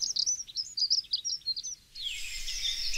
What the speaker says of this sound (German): Noch unscheinbarer verhalten sich die Grauschnäpper